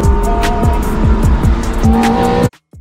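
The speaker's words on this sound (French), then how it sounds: "C'est donc maintenant la première sortie pour la Ferrari F430." A Ferrari F430 engine, rebuilt along with its gearbox, screams at high revs, repeatedly shifting up with falling pitch sweeps, loud and close, then cuts off abruptly.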